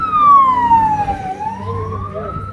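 A loud, nearby ambulance siren wails, its pitch sliding down and then climbing back up, over a low traffic rumble.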